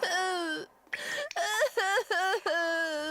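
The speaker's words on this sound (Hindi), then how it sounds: "रोने की आवाज आई।" In a Hindi children's story narration, a voice cries in drawn-out, wavering wails broken into several sobbing bursts, loud and close with no other sound behind it.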